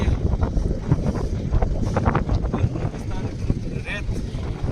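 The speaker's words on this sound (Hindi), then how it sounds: "ठंडी तेज हवा चल रही है।" Strong, cold wind blowing across an open high-altitude landscape near Hanle in Ladakh, heard as a constant low roar and rumble of gusts buffeting close to the microphone, with a voice faintly audible at times.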